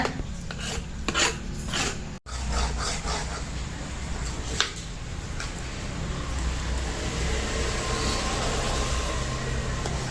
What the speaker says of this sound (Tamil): இப்படி தாங்க கிளறிக்கிட்டு இருக்கணும்